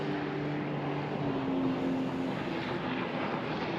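A jet ski runs steadily on the Murray River near its junction with the Darling, a continuous engine drone heard from a distance with no talking.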